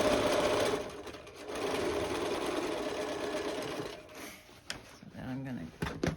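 A sewing machine stitches a fabric lunch bag, its needle running in a steady rapid whir for several seconds before slowing into short bursts and stops, with a voice talking softly alongside.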